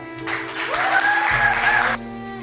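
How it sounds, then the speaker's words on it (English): A short, steady round of applause from the audience at a fundraising event, rising quickly and cutting off after about two seconds, with a voice and faint tones underneath. "one more last round of applause for Rita."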